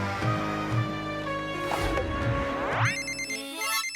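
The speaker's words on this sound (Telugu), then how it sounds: "గట్టుబట్టుకి ఫోన్ చేసి పిలిపిద్దాం." A cartoon telephone rings in short repeated electronic trills, several clear bursts in quick succession, with a rising zip-like effect near the end and no talk.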